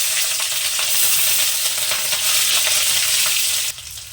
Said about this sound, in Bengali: তারপরে দিয়ে দিলাম কাঁচা লঙ্কা বাটা